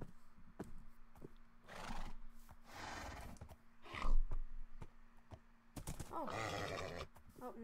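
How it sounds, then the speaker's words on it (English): A Minecraft horse whinnies loudly a few times, with bursts of hoofbeats and snorting in between, over a steady low hum. "I'm gonna ride a horse."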